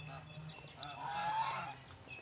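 A goose honks nearby in an outdoor setting, a short nasal call rising over a faint background murmur.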